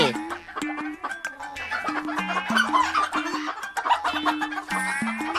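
Chickens clucking repeatedly in quick, choppy bursts, close and fairly loud, with a few higher squawks mixed in.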